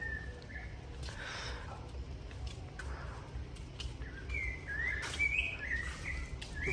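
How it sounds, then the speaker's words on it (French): Birds chirp and sing in short scattered phrases, some fairly close, over a steady low background rumble in a shared outdoor garden space in Mexico. "Entendez-vous les oiseaux qui chantent?"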